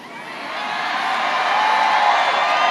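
A large crowd at a campaign rally in Florida cheers and shouts, the dense roar swelling gradually louder and holding steady without pause.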